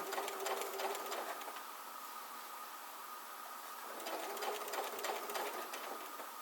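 A sewing machine stitching a quilt with the stitch-and-flip method runs in two steady bursts of fast, rattling needle strokes, close and loud, with a brief quieter pause between them.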